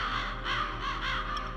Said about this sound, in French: les corbeaux ne sont pas des nécrophages